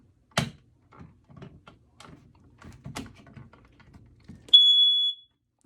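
A household smoke alarm sounds during a test, a sustained piercing electronic tone about a second long after some light handling clicks and taps.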